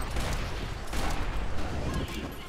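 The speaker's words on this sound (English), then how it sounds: "No, that's a machine pistol." Machine pistol fire in Max Payne 3 as a rapid, dense rattle of shots running throughout at close range, loud and steady.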